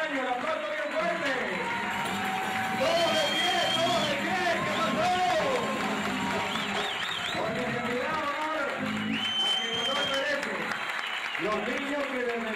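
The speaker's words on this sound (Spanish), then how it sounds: "El aplauso bien fuerte." An audience at a live concert by a youth music group claps and cheers in a long sustained burst, with crowd babble and voices mixed through the applause and music-like tones riding above it.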